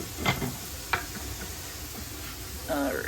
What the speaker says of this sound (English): Sausage is cooking out real nice.